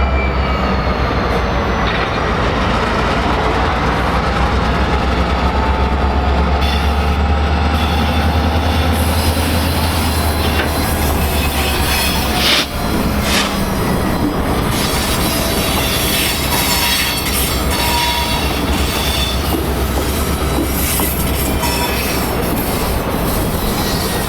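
A BNSF local freight train switches cars in Nowers Yard, a continuous loud rumble of railcars with a low engine drone, metallic clanks and squealing wheels, steady throughout with no voices.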